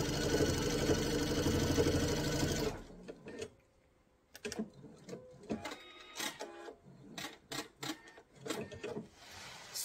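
A sewing machine stitches a mesh tote in a short, loud, steady burst for under three seconds, then stops, leaving scattered clicks, taps and fabric handling nearby.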